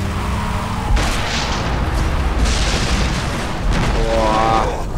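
A loud, rumbling explosion in the video game Far Cry 3 starts with a sharp burst about a second in, then rolls on as a dense, sustained roar with a second swell near the end.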